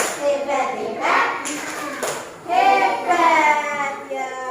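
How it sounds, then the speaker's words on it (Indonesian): Children perform a rhythmic 'tepuk hebat' clapping chant in a classroom teaching simulation, chanting in unison with hand claps at moderate loudness and close range. "Beri tepuk hebat dong untuk mereka bertiga."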